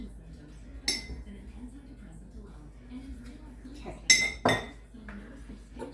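Glass canning jars clink and knock against each other as they are handled, with a sharp clatter near the start and a louder cluster of clinks later, over a quiet room with faint low talk.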